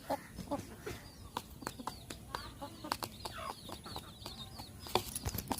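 Kadaknath chickens cluck in quick, irregular bursts of short calls, fairly quiet and close, with scattered clicks and rustling around them.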